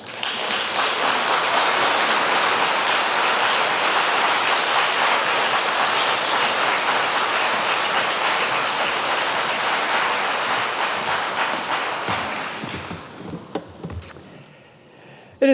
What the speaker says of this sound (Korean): 나오실 때 힘찬 박수로 모시겠습니다